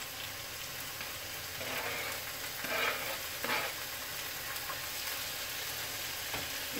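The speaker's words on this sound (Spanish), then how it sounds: "vamos a empezar a freír el chile" Chile and tomato frying in a pan, a steady close crackling sizzle with a few louder bursts of spitting oil, continuous throughout with no voices.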